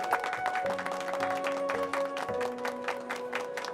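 A studio audience applauds a guest named Ehsan arriving on stage at a filmy talk show, a steady dense clapping wash with a sustained musical tone running underneath throughout.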